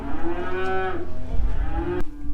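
A farm cow lets out one long, loud, close moo that rises and then sags, followed by a shorter low bellow, with no voices around it.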